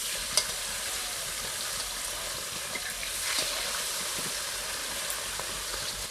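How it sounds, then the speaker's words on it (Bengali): Large pieces of farmed silver carp fry in hot oil in a kadai after being turned, giving a steady, close hiss and sizzle with a few faint clicks from the pan. "মাছগুলো এক পিঠ ভাজা হয়ে গেছে, আরেক পিঠ উল্টে দিচ্ছি।"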